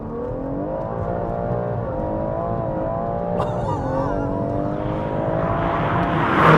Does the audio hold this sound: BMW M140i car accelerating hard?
yes